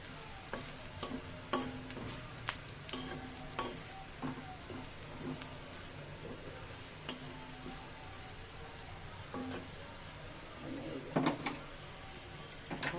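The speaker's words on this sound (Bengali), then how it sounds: "মুরগির মাংসগুলো ভাজার তেলে ভাজছে তো এই জন্য একটু লেগে লেগে যাচ্ছে" Chicken pieces fry in oil for a roast cooked with milk and yogurt, sticking to the pan; a quiet, steady sizzle carries scattered clicks and scrapes of stirring.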